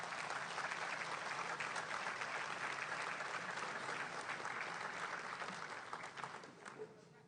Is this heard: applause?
yes